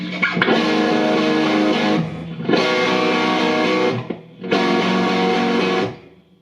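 Electric guitar played through a GDS 18 watt kit amp, three loud sustained chords or phrases, each ringing for over a second and separated by brief gaps, with no talking.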